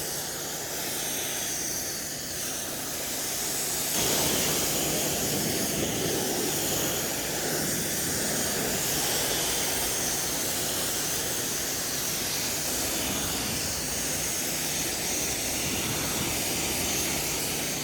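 Steady water spray from a pressure washer or hose rinsing a car from top to bottom in direct sun, a broad continuous hiss that swells slightly after a few seconds and holds evenly, close and fairly loud with no talking.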